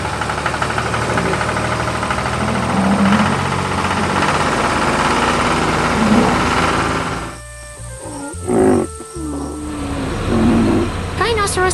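An animated tractor hauling a trailer of fresh crops runs with a steady, loud engine rumble, joined by background music, then cuts out briefly around the eighth second before resuming.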